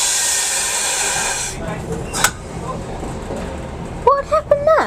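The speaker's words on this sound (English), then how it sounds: "What you can hear is all the pneumatics, the compressed air" Compressed air from the pneumatics in a train cab en route to Shenton hisses loudly and steadily at first, then cuts off, leaving a quieter rumbling cab with a sharp burst of air and brief voices near the end.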